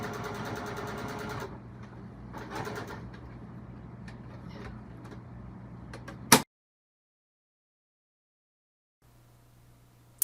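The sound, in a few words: Brother PE 770 sewing machine stitching appliqué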